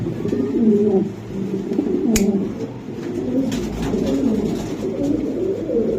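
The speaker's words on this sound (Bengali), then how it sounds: "বিশাল সাইজের কবুতর খালি ডাকে" A pigeon coos in low, repeated throaty phrases close by, over a faint background hum.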